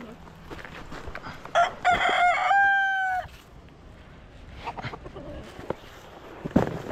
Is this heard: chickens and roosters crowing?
yes